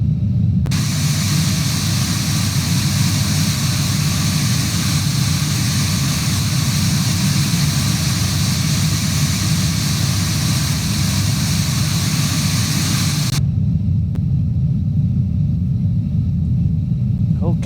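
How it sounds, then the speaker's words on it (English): An Airbus A350-900 engine spins up inside Microsoft Flight Simulator 2024, a loud steady broadband roar and rumble holding for about thirteen seconds before cutting off to a quieter low hum. "So starting engine number 2, engine number 1 is already available."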